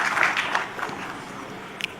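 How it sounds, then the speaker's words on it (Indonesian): Audience applause for the President's ministers at an Indonesian government event, a short burst of clapping that is loudest at the start and then tapers off into a softer crowd patter. "Jadi tepuk tangan untuk pembantu-pembantu Presiden yang telah bekerja keras."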